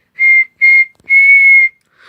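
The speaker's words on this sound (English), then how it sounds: "Then Terence heard a whistle." A cartoon steam engine's whistle in a Thomas the Tank Engine animation gives two short toots and then one long blast, loud and clear with no talk, followed by a brief trailing sound.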